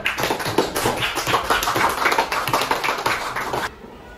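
Classroom of students clapping for a group after a correct answer in an Islamic religious studies lesson, a dense burst of close hand claps that stops abruptly near the end.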